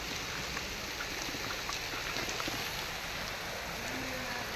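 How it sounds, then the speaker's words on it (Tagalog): Rain falling outdoors on a fishing trip turned hike: a faint, even hiss with scattered soft drop patters, steady throughout and with no voices. "Basta ang ulan."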